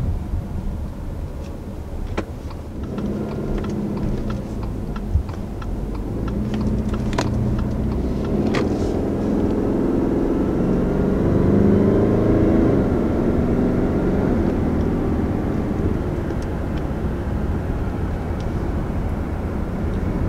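2020 Subaru Ascent with a turbocharged four-cylinder engine cruising under light acceleration produces a steady, low cabin drone with road noise throughout.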